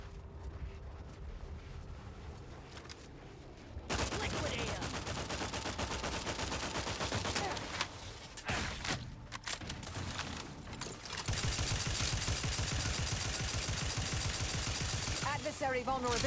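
In The Outer Worlds 2, long stretches of dense gunfire rattle loudly with short breaks between them, following a quieter opening, and a voice speaks at points underneath.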